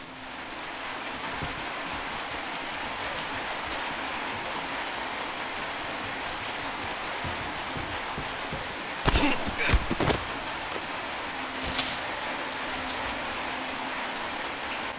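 Steady rain pours down in a swampy area of the video game Metro Exodus, a dense continuous hiss throughout, broken around the middle by a few brief louder knocks and thumps.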